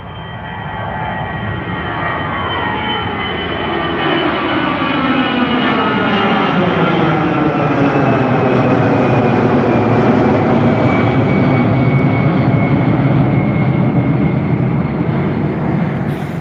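A loud, sustained roar of an airliner taking off from Dublin Airport bound for Paris Charles de Gaulle, its engine tone rising and sweeping in pitch as the jet passes close by, with no talking.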